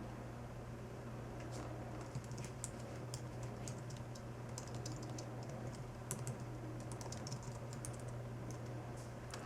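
A blog post title is typed on a computer keyboard as soft, quick key taps in irregular bursts over a steady low hum, no one speaking.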